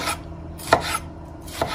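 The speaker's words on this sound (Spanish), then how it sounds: "vamos a picar el jitomate" A knife chops a tomato for tostadas on a cutting board, making a few sharp, close, irregular taps separated by short pauses, with no voices.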